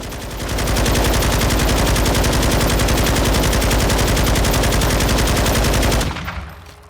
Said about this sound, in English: Let's just let it rip for the 66 rounds and see how it goes.